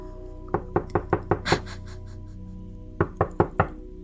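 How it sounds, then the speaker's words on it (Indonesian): Someone knocks on a bedroom door: a clear run of six quick raps, a pause, then four more, close and distinct against a quiet background. "ada yang mengetuk pintu kamarku."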